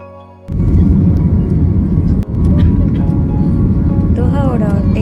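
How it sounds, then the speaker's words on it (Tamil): A passenger airplane taking off from Doha, heard from inside the cabin: after a brief quiet start, a loud steady engine roar swells up and holds, with a short voice near the end. "தோஹாவோட டேக் ஆஃப் வியூ."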